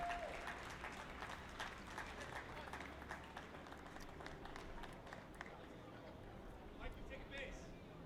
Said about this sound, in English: a very well-deserved round of applause for Scott Kaltoff.